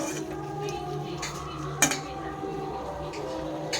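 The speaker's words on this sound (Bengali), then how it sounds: "এবার মশলাটা ভালো করে কষিয়ে নেব।" Spiced potatoes stirred in masala in a pan for jhal alur dom, with scraping and metal-on-pan clinks, one sharp clack near the middle, over a steady kitchen hum.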